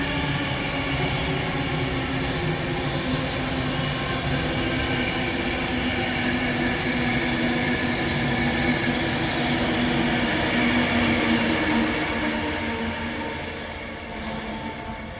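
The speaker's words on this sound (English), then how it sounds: "a slow pendolino busy trundling through" A slow Class 390 Pendolino train rumbles steadily past nearby at Rugby on the West Coast Main Line, a continuous heavy drone of wheels and carriages that eases slightly toward the end.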